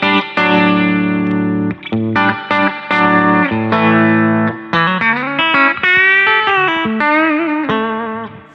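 A Fender Roadhouse Strat electric guitar in pickup position 3 plays a dense run of chords and single notes through a distorted, chorus-heavy effects setting, loud, close and continuous with brief gaps and no voice.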